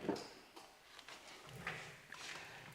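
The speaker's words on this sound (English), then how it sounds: "but I need to pop the door open." A Cadillac Escalade door is popped open during a fender paint protection film installation, giving a few short mechanical clicks and a clunk at close range in a quiet space.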